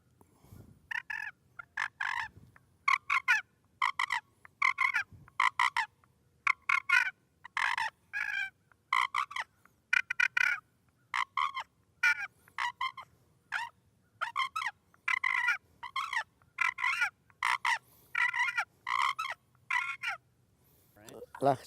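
Rapid, raspy clucks and purrs of a fighting purr worked on a hand-held turkey call, mimicking two turkeys fighting in spring, in close, steady bursts of about a second each, repeated continuously with short gaps and no talking.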